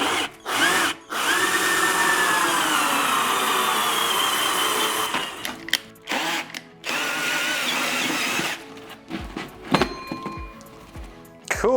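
A power drill bores into the cooler of a backpack-mounted gaming PC (i5-9400F, GTX 1660 Ti), a loud sustained whine for several seconds, then broken into shorter bursts and clunks as the bit stops and restarts.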